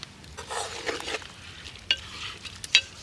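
Chopped tomato being stirred into an oil-free chicken curry, soft frying hiss with scraping strokes and two sharp clinks of a utensil against the pan.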